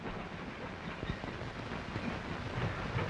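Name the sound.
railroad freight car rolling down the hump yard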